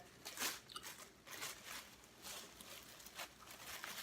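Cuban bread being bitten and chewed close to the mic, with a few crisp crunches and soft wet chewing noises at irregular intervals, quiet throughout.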